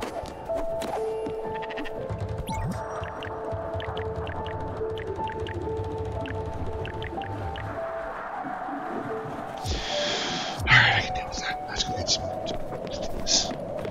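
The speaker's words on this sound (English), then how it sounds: "I have a third sheep and nowhere to put it." Sheep bleats from the video game Spiritfarer, several short calls scattered over a steady game music bed, with a person talking throughout and a brief splashy burst near the end.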